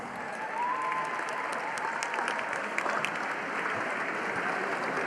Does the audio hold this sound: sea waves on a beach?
no